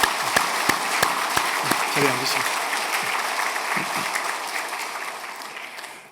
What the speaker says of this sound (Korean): 우리 큰 박수로 우리 환영하겠습니다.